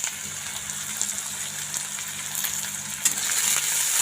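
Sliced onions with curry leaves frying in hot oil for a bitter gourd chutney, giving a continuous crackling hiss over a faint low hum, steady and close, swelling slightly toward the end.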